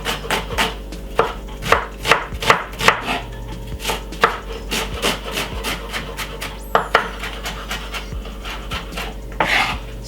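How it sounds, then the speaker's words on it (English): A knife chops a piece of white onion finely on a wooden board, giving a run of crisp, close, fairly loud taps in uneven bursts with short pauses between them. "take off a little piece of the white onion. And I'm going to cut it up very finely"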